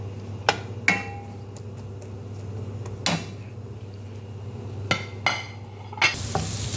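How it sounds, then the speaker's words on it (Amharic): Onions frying in oil give a low, continuous sizzle nearby, broken up by several sharp clacks of a utensil against the pan. "ሽንኩርትን እየጠበስኩኝ ነው"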